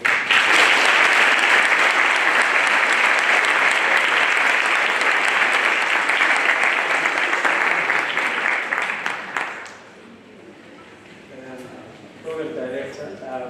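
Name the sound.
audience applause at an inauguration ceremony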